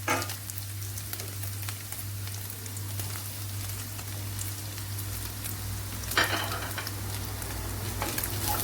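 Onions go into a hot frying pan for a meat and tomato skillet dish and sizzle loudly and continuously up close, with a few stirring scrapes and a brief burst of crackle partway through, over a low steady hum.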